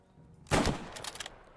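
Gunfire in the video game Squad 44 during shooting practice: a sudden loud burst of several rapid close shots, then a few quieter trailing cracks and echoes fading out, no talk.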